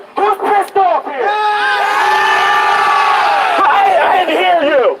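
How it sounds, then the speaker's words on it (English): A large rally crowd at a parenting event in Austin, Texas, screams together in one sustained, loud, raw yell lasting several seconds, preceded by a few short shouts. "I want everybody to do on the count of 3, do your Alex Jones scream."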